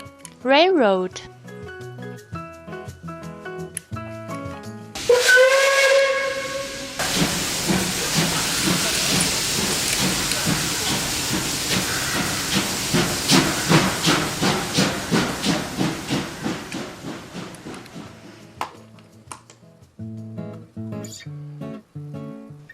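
A steam locomotive hisses loudly and steadily in a long burst of escaping steam, with rhythmic chuffing pulses emerging toward the end, framed by short musical passages before and after.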